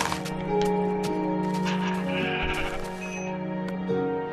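Minecraft sheep gives a few short, nasal bleats over steady game music and effects, close and clear, with a couple of bleats spaced across a few seconds.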